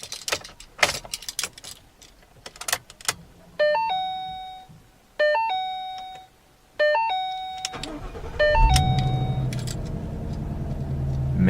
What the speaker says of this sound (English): Amazing sound from that V8 engine